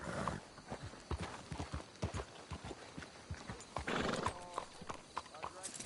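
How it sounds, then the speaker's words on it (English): Horses in the video game Red Dead Redemption 2 clip-clop at a walk with rhythmic hoofbeats and give a short whinny, under characters talking. "Let's leave the horses here."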